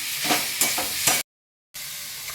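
Crushed ginger and green chilli stirred in a pan, giving a few scraping strokes over a soft sizzle, then a brief silent gap before the steady frying hiss returns.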